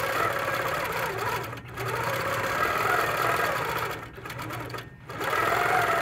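Domestic sewing machine running steadily while doodle quilting swirls, a continuous mid-pitched motor whir with rhythmic needle chatter, briefly slowing and pausing three times before resuming at full speed.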